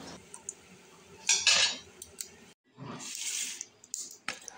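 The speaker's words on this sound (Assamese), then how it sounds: "সেইফালে এতিয়া প্লেট ঠিক কৰি আছোঁ।" Plates and cutlery clink and clatter as dishes are set out in a home kitchen, with a few close bursts of rattling ceramic and metal separated by short pauses.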